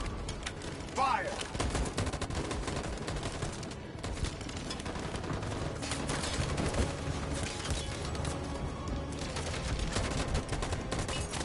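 Volley of gunfire in Detroit Become Human, a dense burst of rapid overlapping shots opening the scene, then scattered cracks and rumbling over a busy, noisy background with voices mixed in.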